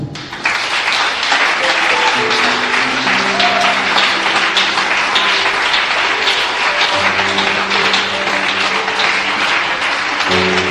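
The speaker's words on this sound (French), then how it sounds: "Acclame un peu ton Dieu" A church congregation applauding and cheering their God, sustained loud clapping mixed with voices and shouts, continuing steadily for several seconds after a sudden start.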